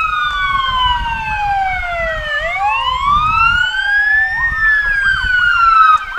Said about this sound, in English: The NEPOS police rescue vehicle.